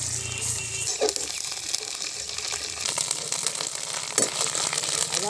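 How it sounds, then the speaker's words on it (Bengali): Onions, ginger and garlic frying in a pan, giving a steady, loud, close hiss of sizzling oil that runs continuously with a few brief clinks, without talk. "আদা রসুন পেঁয়াজ ভেজে নিয়েছি"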